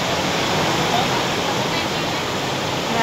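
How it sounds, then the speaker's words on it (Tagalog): Heavy rain and strong wind in a storm pour down as a dense, loud, unbroken roar that fills the whole stretch without letting up. "ganyan kalakas ang hangin at ang ulan"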